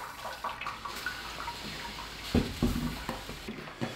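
Water trickles and splashes softly over a grain bag as sugars are rinsed from it during a stovetop session IPA beer brew, with a few louder pours amid quiet dribbling.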